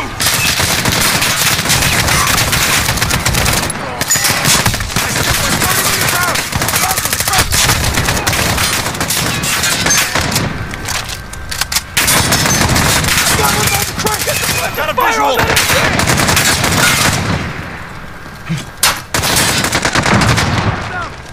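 Machine gun fire from Call of Duty Modern Warfare rattles almost continuously, with dense bursts and explosions amid busy game sound, a short lull near the middle and another near the end; voices can be heard underneath.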